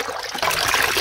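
Water splashes and trickles as black fish are washed in a kitchen for curry, a brief quiet moment giving way to a steady close run of splashing.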